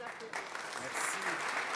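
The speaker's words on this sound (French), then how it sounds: "On les applaudit" A seated audience at a security directors' gala round table applauding guests as they come up, a steady wash of dense clapping, fairly close, swelling slightly toward the end.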